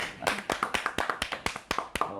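Audience at a Korean poetry-reading broadcast claps in a quick, uneven burst of hand claps lasting a couple of seconds, fairly close and moderately loud.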